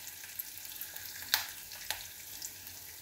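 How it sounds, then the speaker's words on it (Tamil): Onions and a ground fennel-coconut paste sauté in a pan for a carrot fry, giving a faint, steady sizzling hiss with a couple of soft clicks from stirring. "இப்போ வந்து வதங்கிட்டுருக்கு. வெங்காயம் வதங்கிட்டோம்."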